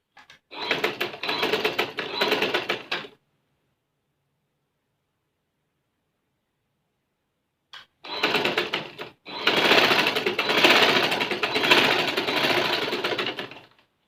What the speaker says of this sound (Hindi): और एक स्टिचिंग ऊपर भी हम कर देंगे।